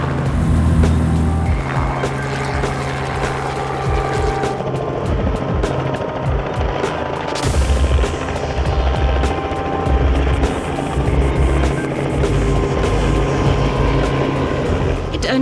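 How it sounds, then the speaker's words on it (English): A helicopter flying low to herd elephants toward a fence gap during a rescue at Eendvogelpan, its thudding rotor and engine drone loud and close throughout, with a brief whoosh midway. "Jana coaxes them slowly with the helicopter closer to the gap in the fence."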